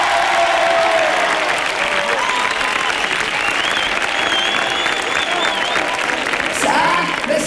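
Studio audience applauds and cheers for a singer, sustained loud clapping with voices and whoops mixed in throughout.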